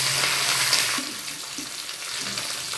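Curry leaves dropped into hot oil with frying garlic and urad dal give a loud, dense sputtering sizzle that eases slightly after a second, close up and without speech.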